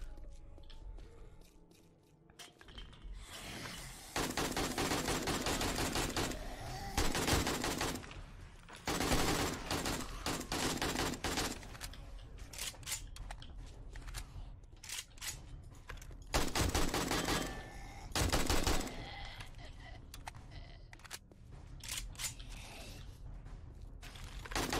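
AK rifle gunfire in the video game 7 Days to Die rattles out in loud bursts of rapid automatic shots, separated by short pauses, with quieter mechanical clicks between volleys.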